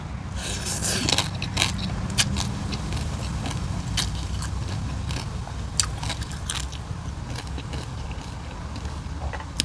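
Crispy pork (mu krob) crunching between teeth, repeated close crackly bites and chewing over a steady background murmur.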